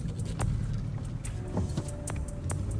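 A car backs out of a home driveway, a steady low engine and road rumble running throughout, with a few faint clicks and thin hissing accents over it, fairly close and moderately quiet.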